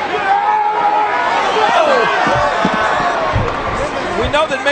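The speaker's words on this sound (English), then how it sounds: "I think the crowd is trying to start a May 19th chant" A large wrestling arena crowd roars and chatters, with ragged rhythmic shouts rising from the stands under a commentator's brief exclamation.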